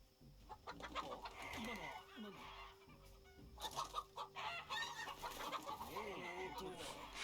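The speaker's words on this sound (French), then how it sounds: "C'est quoi ce bruit? C'est des poules" Chickens in the video game Shadow Tactics give repeated clucks and squawks in irregular bursts, fairly close, over a low game ambience.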